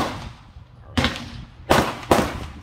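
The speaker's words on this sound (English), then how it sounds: "I'm just gonna take a couple shots so you guys can see." A Ruger Mark IV Tactical .22 pistol fired at an outdoor range: three sharp, close shots, the first spaced apart and the last two in quicker succession, each cracking and fading quickly.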